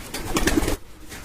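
A domestic pigeon gives a short, soft, throaty coo close by, a single low burst that fades into quiet.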